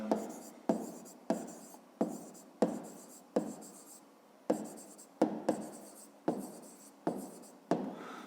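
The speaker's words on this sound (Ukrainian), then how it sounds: "ну а тепер записуємо відповідь. Пишемо відповідь." A pen writes a math answer by hand on paper: a quick run of about a dozen rhythmic scratching strokes, each with a sharp start and a short fade, close and clear with no talking over it.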